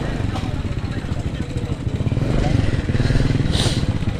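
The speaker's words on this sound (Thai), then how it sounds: "ขี่รถไถมาอีก" A walking tractor chugs along close by in a rural Lao festival setting in a forest. Its steady rapid putter keeps going while voices talk over it.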